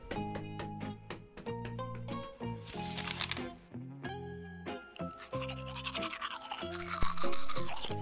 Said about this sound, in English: as he was brushing his teeth, there they were.